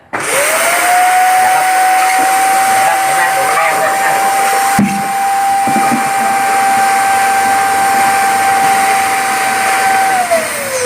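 A homemade vacuum cleaner sucks up spilled liquid from a floor, giving a loud, steady rushing hiss with a sustained whining tone that holds for about ten seconds before cutting off.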